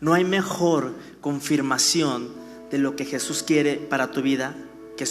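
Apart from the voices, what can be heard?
None of the usual background noises is heard.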